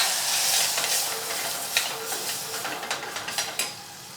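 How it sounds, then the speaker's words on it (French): Chestnuts and shallots in fat deglazed with a splash of white wine in a restaurant kitchen pan, a loud hissing sizzle that settles into softer frying with light utensil stirring and taps, close up and without talk. "On va déglacer avec un tout petit peu de vin blanc."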